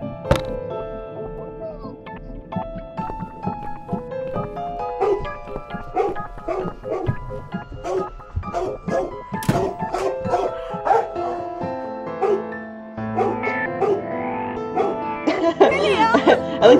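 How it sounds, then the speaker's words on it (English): A dog in The Cat Lady video game yips and whimpers repeatedly over game music and sound effects, its barks coming in irregular bursts. "Your dog is making horrible noise."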